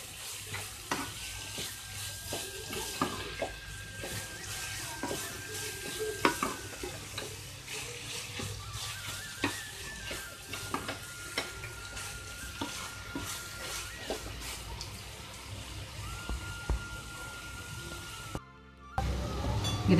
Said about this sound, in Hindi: फिर से अच्छे से मिक्स करेंगे और भूनेंगे जब तक टमाटो सॉफ्ट नहीं हो जाते